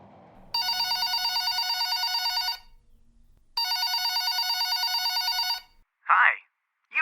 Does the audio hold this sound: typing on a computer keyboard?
no